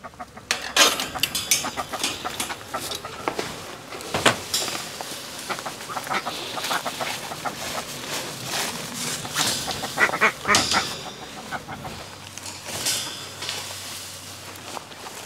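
Chickens clucking and ducks quacking together in a busy, continuous flock chorus, with frequent loud bursts of calls overlapping close by and no talking.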